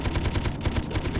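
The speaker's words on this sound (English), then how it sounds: "Guns going." Machine guns firing in the Space Engineers game, a fast, dense burst of rapid repeated shots, loud and continuous through the short stretch.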